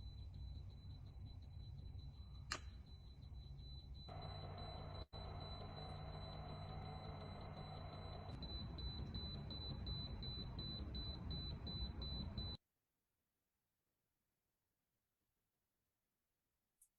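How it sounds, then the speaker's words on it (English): An RD9300 radiation detector gives rapid electronic beeps over a steady high tone for several seconds, then cuts off abruptly into near silence. "So that beeping noise, that's the RD9300"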